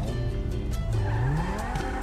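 Modded car in GTA V, a hybrid of the Osiris and Karuma, revving loud and close with tires squealing and skidding, the engine pitch sweeping up and down continuously throughout.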